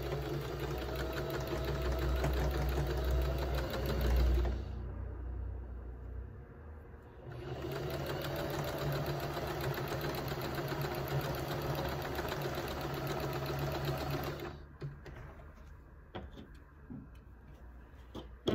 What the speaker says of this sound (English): put them right sides together, line them up, and sew them again at a 1/4 inch seam allowance